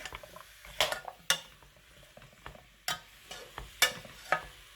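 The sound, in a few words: stirring carrot and pepper soup in pot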